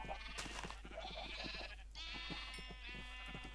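Sheep bleat repeatedly in Minecraft, several wavering calls overlapping one another, close and fairly loud over a steady low hum, with no one speaking.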